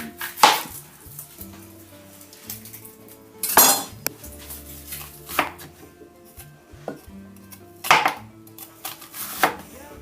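Fresh onion being chopped for spicy guacamole, a knife striking a cutting board in a few loud, sharp chops spaced through the clip over quieter scraping and handling noise, with no talking.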